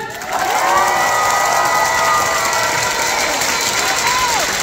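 Audience at an inspirational talk applauding and cheering, a dense continuous wash of clapping and shouting voices that stays loud and steady throughout.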